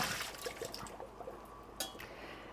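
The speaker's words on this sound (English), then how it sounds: "So the potatoes are cooked, perfectly temped now. I'm going to drain them." Water drains off a pot of freshly cooked potatoes, a soft, quiet pour and trickle of liquid with a brief louder splash partway through.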